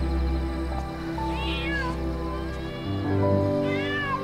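A kitten gives two short, rising meows a couple of seconds apart, heard close up over a steady low background hum in an indoor scene.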